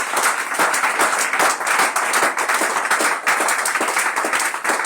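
A church congregation claps and applauds the Lord, steady dense clapping that carries through the whole stretch at a lively, even level with no voices standing out.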